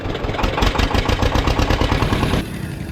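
A boat engine idles close by, a continuous low rumbling drone with a regular pulsing rhythm that eases off slightly near the end.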